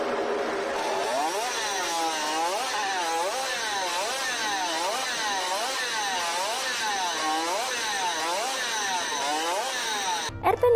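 A 1960s Suzuki RP68 50cc two-stroke Grand Prix racing motorcycle, capable of about 20,000 rpm, revs hard again and again in a loud, buzzing, high-pitched rise and fall, roughly one cycle per second, then cuts off with a brief knock.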